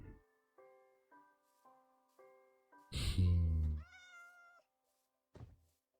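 Several short, tonal cat meows from Minecraft's in-game cats, spaced irregularly, with a louder thudding burst in the middle and a final brief mew near the end.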